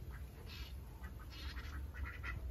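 Ducks on a rural farm quack in short clustered bursts, fairly close, over a steady background hiss with no talking.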